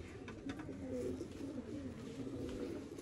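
Pigeons in a breeder's rooftop loft, including a black-faced male with a teddy female, give soft, low, rolling coos, repeated and close, with no talking.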